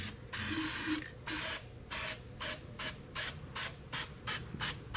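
High-tack gasket sealant is sprayed from an aerosol can in short hissing bursts, one long spray followed by a quick series of about ten shorter, evenly spaced puffs, close and clear.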